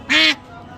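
A single loud, short quack sounds up close from a duck held for slaughter, followed by faint background noise.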